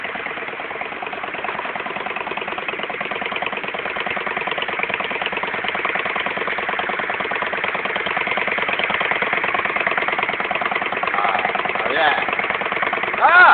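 A custom motorcycle engine idles steadily up close, its valves ticking in a fast, even rhythm, with a brief remark spoken over it.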